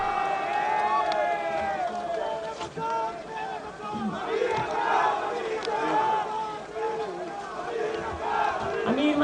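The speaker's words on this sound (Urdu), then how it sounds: "امیر مقام صاحب بڑے نعرے لگ رہے ہیں آپ کے" A large crowd chants slogans in rising, rhythmic waves at a PDM political rally in Mardan, loud and dense, with shouted lead calls echoed by the mass of voices.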